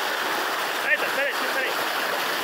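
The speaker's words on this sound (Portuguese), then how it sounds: "Olha a zoada da água aí" Strong, steady rush of water from the Maribondo forest stream (igarapé) in Pau-D'arco, Maranhão, heard close and loud, a broad continuous roar with no pauses and no talk over it.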